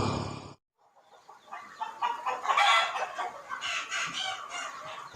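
Free-range native village chickens on a farm: a rooster's crow cuts off abruptly at the start, followed after a brief gap by a busy mix of clucking and calls at moderate distance.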